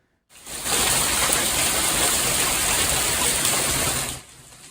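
Loud hailstorm from an evening thunderstorm, with small hailstones hammering down in a dense, continuous roar. It starts abruptly and holds steady for about four seconds before cutting off.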